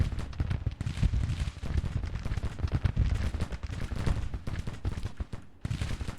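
Dense gunfire and bombardment booms from a Civil War strategy battle in Grand Tactician, a continuous crackling volley of many shots with heavier low thuds, moderately loud and steady without talk.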